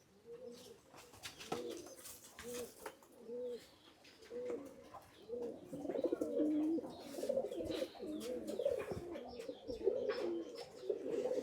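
Domestic pigeons in a loft coo repeatedly in soft rhythmic bursts, several birds overlapping and growing busier toward the end, with faint chirps and scattered clicks around them.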